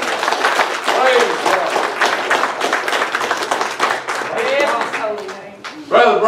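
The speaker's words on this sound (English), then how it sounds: "give him a round of applause." A church congregation applauds during a Sunday morning service, a dense, steady patter of many hands clapping at close range, mixed with shouts and voices calling out over the clapping throughout.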